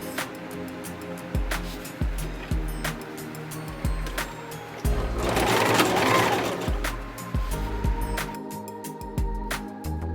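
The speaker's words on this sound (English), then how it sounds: "which machine I'm using, I use the Singer Heavy Duty 4452" A Singer Heavy Duty 4452 sewing machine stitching a wrap dress in short bursts, each run a close rapid rattling whir separated by pauses and clicks, with a louder continuous stretch in the middle.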